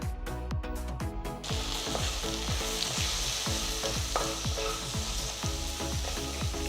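Capsicum sizzles in a pan with turmeric and salt under a constant crackling fry, while a spoon scrapes and stirs in a steady repeating rhythm, close and clear.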